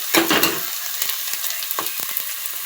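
Onion browning in a pan for a bamboo-shoot vegetable dish, a crackling sizzle that swells at the start and then settles, with several sharp spatula scrapes and stirs.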